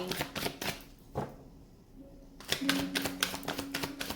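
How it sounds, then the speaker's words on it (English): Tarot cards being shuffled by hand, crisp riffling bursts that come in quick ticking runs, pause briefly in near silence, then resume with rapid flicking, close and fairly quiet. "Two more shuffles for Scorpio after this one"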